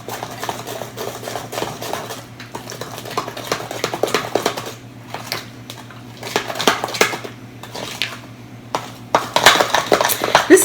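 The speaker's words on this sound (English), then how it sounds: "we're going to give it all a good mix till the egg and the peanut butter has completely homogenized itself together" Egg and peanut butter mixed in a bowl for cookie dough make repeated clinking and scraping strokes of a utensil against the bowl, uneven in rhythm and growing louder toward the end, with no talk.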